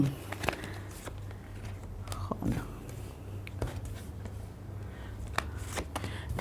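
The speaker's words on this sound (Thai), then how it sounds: "ขอเก็บไพ่ก่อน" Tarot cards being gathered and shuffled, a soft papery riffling and sliding with scattered light taps, close and fairly quiet, with no one talking.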